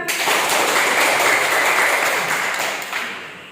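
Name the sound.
class applause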